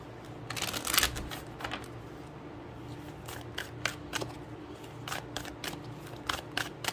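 Oracle cards being shuffled and drawn, a quick riffling burst followed by scattered soft taps, slides and flicks of card stock, close and fairly quiet.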